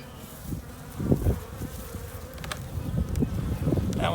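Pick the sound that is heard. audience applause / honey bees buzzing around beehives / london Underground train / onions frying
honey bees buzzing around beehives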